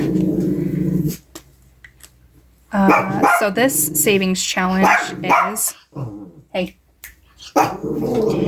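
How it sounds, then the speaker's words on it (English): A dog barks and growls at a cat in short bursts close by, mixed with a person talking over it. "is barking at the cat"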